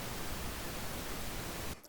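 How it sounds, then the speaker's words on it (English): Moderate-level pink noise synthesized in SuperCollider hisses as a steady, even broadband wash for nearly two seconds, then cuts off abruptly near the end. "Normal, regular pink noise."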